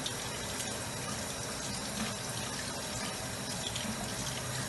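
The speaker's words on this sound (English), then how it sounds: "I just run it on the water and I just start rinsing it all out." Tap water running steadily to rinse the seeds out of a pepper, a continuous close splashing gush from start to end, with no voices.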